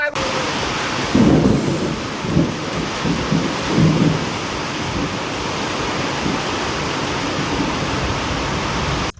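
Heavy monsoon rain pours steadily in Nandgaon taluka, a dense hissing wash with low rumbles of thunder rolling through the first few seconds, no voices.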